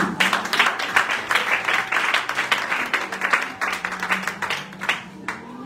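A church congregation at an Easter service claps for a mother, with dense sustained applause and voices mixed in throughout.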